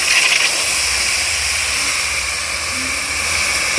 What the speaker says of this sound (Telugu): ఇంగువ వేసిన తర్వాత ఒకసారి ఇలా మిక్స్ చేసుకుని కలిపిన చింతపండు టమోటా రసం అయితే వేసేద్దాం